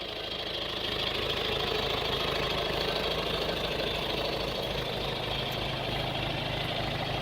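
A John Deere 2355 industrial tractor engine runs steadily at a constant idle, a close, continuous diesel drone with a knocking undertone and no talk.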